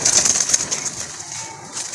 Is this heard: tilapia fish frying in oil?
no